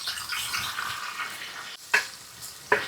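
Onions sizzle in hot coconut oil and ghee in a home kitchen, a soft, continuous frying hiss broken by two sharp clatters near the end.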